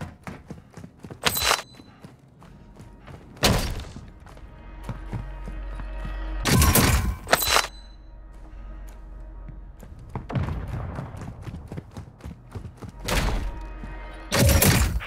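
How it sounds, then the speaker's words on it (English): Mortar strike explosions in the video game Call of Duty: Modern Warfare II land as repeated heavy, booming blasts. They arrive in irregular bursts over a steady battlefield background. "Friendly mortar strike inbound."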